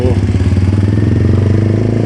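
A motorcycle engine runs loud and close while the bike is ridden through traffic, giving a steady rhythmic throb with a faint rattle throughout.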